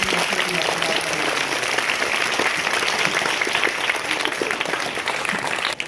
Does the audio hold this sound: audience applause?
yes